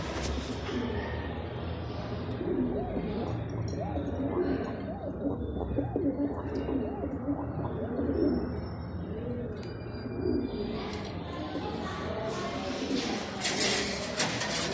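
Pigeons in a loft housing several breeds, including a shell-and-hazel coloured bird, coo low and steadily throughout, with soft chirps and rustling mixed in and a voice talking over them at times.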